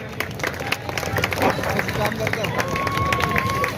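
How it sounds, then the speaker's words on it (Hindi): Crowd applause at a public political rally in a residential colony, clapping and cheering spread through a large outdoor gathering, steady and moderately loud with a mix of crowd noise. "फारूक अहमद साहब के लिए एक बार जोरदार तालियां बजा दीजिए।"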